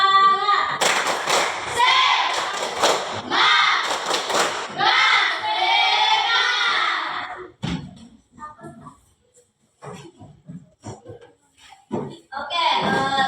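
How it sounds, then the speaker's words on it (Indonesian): An Indonesian seventh-grade classroom performs the rhythmic tepuk semangat clapping chant during a lesson on heat and temperature: several seconds of loud, patterned group claps mixed with chanting children's voices, followed by sparser scattered claps and taps. "kita tepuk semangat dulu ya"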